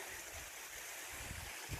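A forest river tumbling like a waterfall, a steady full rush of water filling the scene at an even level, with no voices over it.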